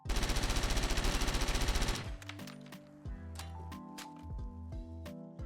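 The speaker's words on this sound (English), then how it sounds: "Got nice iron sights, a really fast rate of fire." A modded rapid-fire weapon in Fallout 4 fires a fast, even burst for about two seconds, loud and close. A run of softer clicks and tonal game sounds follows.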